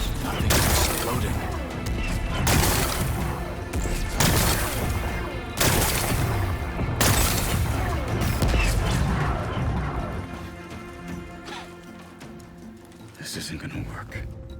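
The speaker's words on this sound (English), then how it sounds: "Gotta blast away some rocks, so I can expose the..." Explosives blasting away rocks in the video game Horizon Forbidden West, heard as a string of heavy, booming blasts at roughly even intervals before the noise fades to a quieter rumble.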